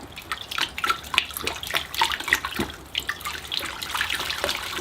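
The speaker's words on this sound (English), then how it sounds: "All right, into the bucket it goes. I'll just swish it around." Tigerbark ficus bonsai roots are swished around in a bucket of water, giving irregular sloshing splashes and trickling close by with no talk.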